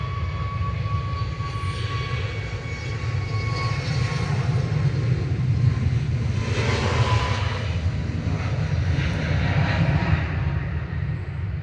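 A Ryanair Boeing 737 MAX 8 airliner operated by Malta Air at Manchester Airport gives a steady, loud jet engine roar with a deep rumble and a faint whine, holding constant throughout and heard alone without talk.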